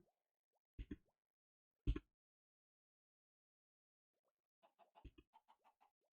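Chickens in Minecraft making soft, quiet clucking and plopping sounds, two isolated short bursts followed by a quicker run of small clucks near the end, with long silent gaps between.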